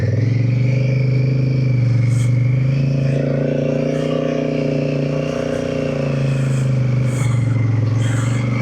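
Honda CRF1100 Africa Twin adventure motorcycle engine straining on a steep climb, a loud, close, steady low rumble with rising and falling revs and occasional clatter.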